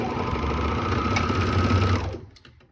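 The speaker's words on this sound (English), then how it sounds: "I'm going to go ahead and sew right across that." A sewing machine runs across the neck band of a romper, a close, steady whirring stitch for about two seconds that then stops abruptly.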